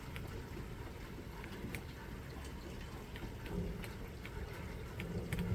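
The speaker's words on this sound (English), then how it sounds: "As you can see, the rain has started." Rain falls steadily outdoors over a small fruit orchard ahead of a winter storm, a dense, even hiss with scattered faint drip ticks, with no voices.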